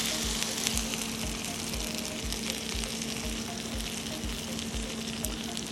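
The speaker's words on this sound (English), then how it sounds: "It only takes a few seconds in the skillet." Glazed salmon sizzles steadily in a hot skillet, a close, constant frying hiss with faint low rhythmic thumps beneath and no voices.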